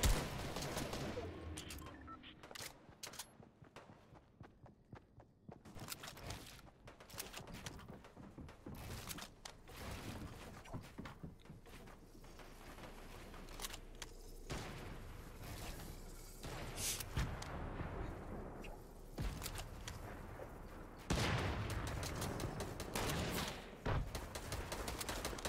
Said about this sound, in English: Trying to get some sneaky shots out here